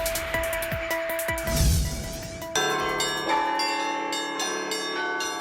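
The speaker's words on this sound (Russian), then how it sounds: "Как прошел ежегодный фестиваль колокольного звона" Church bells ring out at an annual bell-ringing festival in Tatarstan, several bells striking in clear repeated peals with long ringing tones, then a bright, layered chime continuing, loud and without talk.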